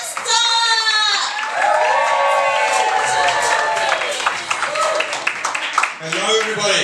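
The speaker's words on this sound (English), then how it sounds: "can we have a little whoop, a little holler, a little cheer" Comedy club audience whooping, hollering and cheering loudly together, a dense sustained roar of shrill whoops and shouts with scattered clapping that swells and holds throughout.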